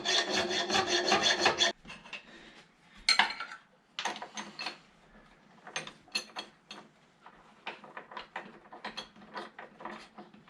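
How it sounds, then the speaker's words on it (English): A hand file rasps against a mild steel part to enlarge it, starting with a run of quick, harsh strokes and then moving to slower, scattered scraping passes. The steel sounds unusually hard, and the filing is close and moderately loud with no voices. "Just make it slightly larger with a file"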